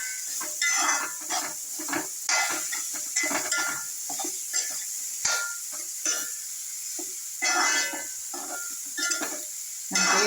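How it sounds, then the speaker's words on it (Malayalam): Millet mixture being stirred and mixed in a pan, with repeated scraping strokes and soft utensil clinks over a faint sizzle, close and steady, no voices. "നല്ലപോലെ യോജിപ്പിക്കുക കേട്ടോ"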